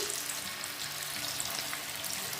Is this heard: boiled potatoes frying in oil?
yes